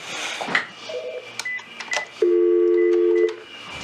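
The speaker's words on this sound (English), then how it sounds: "And so phone going." A phone rings indoors during a thigh-stretching session, a steady electronic tone held for about a second after a few scattered beeps and soft background noise.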